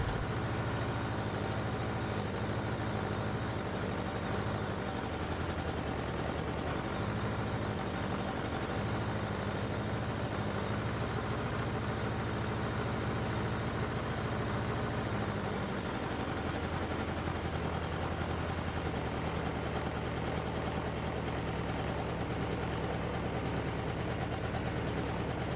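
A cold Suzuki GSX-F 1100 motorcycle with a badly misadjusted carburetor bank idles while warming up, its engine humming steadily and loudly at close range with a dense, unchanging rumble throughout.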